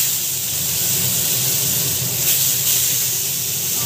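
Onion and tomato sautéing in a hot pan give off a loud, steady sizzle, a close, continuous hiss with slight swells and no break throughout.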